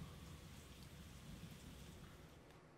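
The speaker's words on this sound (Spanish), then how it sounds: "Lluvia, más lluvia" Steady rain from the video game Persona 4 Golden, a soft continuous hiss with a faint low rumble underneath, even and unbroken throughout with no voices.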